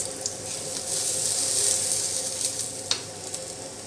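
Fennel seeds sizzle and crackle in hot oil in a pan, a steady frying hiss with a few sharp pops, heard close and alone with no talking.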